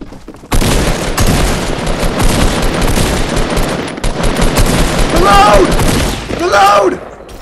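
Pistol gunfire in Fortnite rattles off in rapid, dense volleys, loud and nearly continuous for several seconds, with a player's voice shouting and groaning over the shots near the end.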